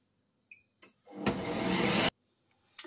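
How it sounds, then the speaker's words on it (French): A kitchen blender running at maximum speed, mixing tomatoes for gazpacho: a loud, steady whirring roar of about a second, framed by a few sharp clicks and knocks in an otherwise quiet room. "Donc, nos 15 secondes sont terminées"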